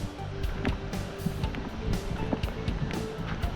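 Strong wind gusting along a coastline during shore fishing, a steady broadband rush with repeated surges and buffeting bursts, close and fairly loud, with no talking.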